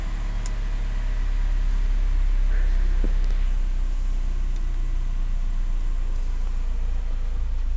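A 2013 Fiat Linea Essence 1.8 with a manual gearbox idles smoothly and steadily, a close, even low rumble that holds for the whole stretch with no revving.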